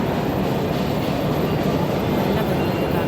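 A train rumbles steadily at a railway station platform, a loud continuous low roar with no pauses.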